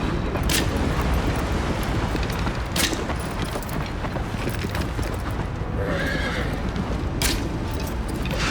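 A horse in the Shadow of the Colossus video game galloping with fast continuous clip-clop hoofbeats, interrupted by several loud neighs and whinnies spaced a few seconds apart, with no talking.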